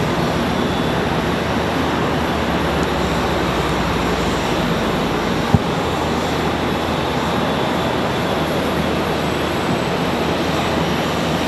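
A United Express airplane at Charlotte Douglas airport produces a continuous, loud, broadband engine roar that stays steady throughout.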